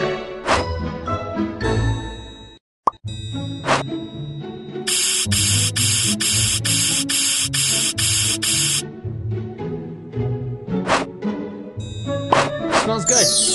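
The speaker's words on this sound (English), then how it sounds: "Spray the air freshener." Several quick hissing bursts from an aerosol air freshener spray, then a steady two-second spray, set among music and other busy background sounds.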